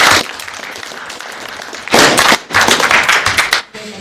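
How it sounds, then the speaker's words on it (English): A high school audience breaks into clapping in bursts, with a sharp loud surge midway and another short round near the end, the claps crisp and close, separated by quieter stretches of room noise. "Everybody, give a round of applause, please."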